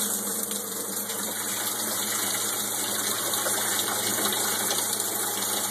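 A replumbed water pump runs steadily with a continuous rushing, whirring hum of flowing water, constant and fairly close throughout, with no voices.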